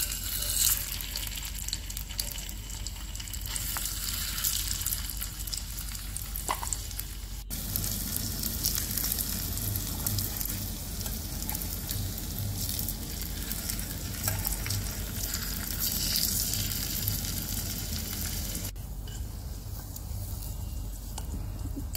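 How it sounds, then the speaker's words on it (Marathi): Stuffed potatoes shallow frying in a pan, giving a steady, close sizzle and crackle of hot oil that runs continuously throughout, with occasional soft stirring or turning noises and no talking. "छान दोन्ही साइड आपण शॅलो फ्राय करणार आहोत।"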